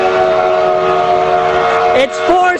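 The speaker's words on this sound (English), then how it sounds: "it's coming right into the station right now" Durango and Silverton engine 466 pulling into the station, a sustained loud whistle tone holding steady before breaking off and wavering near the end, with voices talking over it.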